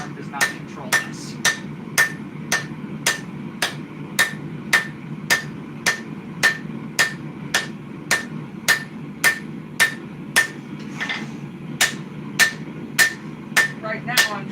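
Steel sword blade being forged by hand with a hammer, a long run of loud, evenly spaced metallic strikes on the anvil over a low steady background hum.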